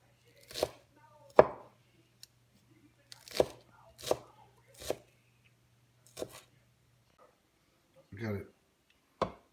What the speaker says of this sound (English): We've got Melly Flowers dicing up our green onions